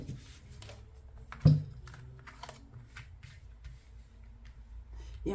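Tarot cards drawn and handled on a table, with soft papery slides, flicks and light taps, one sharper snap of a card set down, close and quiet with no talking.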